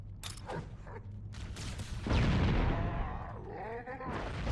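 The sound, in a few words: green explosions in video game Halo Combat Evolved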